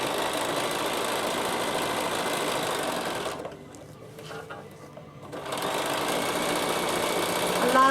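A sewing machine runs a steady satin stitch on a reverse-appliqué garment bag, humming loudly and close. The whirring dips briefly in the middle, then resumes at full speed.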